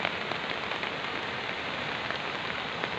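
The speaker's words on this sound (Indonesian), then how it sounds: "sampai sekarang masih hujan gerimis" Steady light drizzle falls at Merapi, a constant even hiss of rain on surfaces with faint scattered drop patter and no voices.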